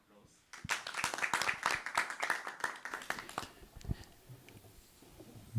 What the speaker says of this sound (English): Mr. Kametse, a round of applause.